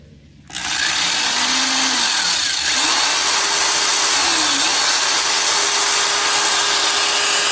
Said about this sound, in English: I mounted this drill which has a lock on it, so you can lock the drill to running